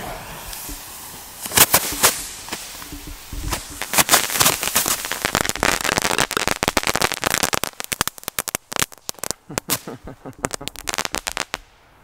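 Silberknall firecrackers, several lit at once, explode in a dense, rapid string of sharp bangs and crackles that builds, peaks and thins out over about ten seconds outdoors.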